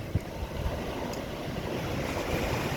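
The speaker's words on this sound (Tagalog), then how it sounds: "At malalaki pa rin ang alon." Heavy surf rumbles continuously with broad, rushing noise, large waves breaking under gusty wind buffeting the microphone.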